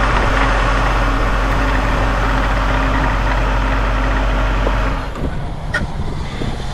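A 1978 Corvette Pace Car with a non-original 350 V8 idles loud and close in a steady low rumble for about five seconds, then cuts off, leaving quieter background sound.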